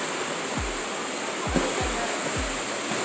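A waterfall roars in a steady, dense rush of falling water close by, with a few soft low thumps breaking through the continuous wash.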